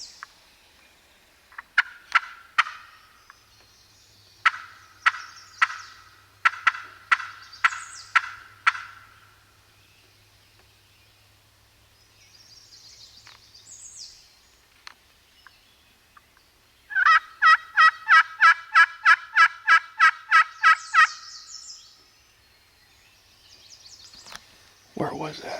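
Wild turkey gobbling in spring woods during the last day of turkey season, with repeated rapid rattling gobble bursts, some distant and one loud close run, separated by quiet pauses and a few faint murmured voices.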